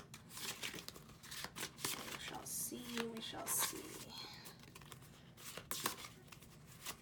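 Tarot cards being shuffled by hand, with soft papery riffles and crinkly slides rising and falling over several seconds beneath a quiet voice murmuring close by.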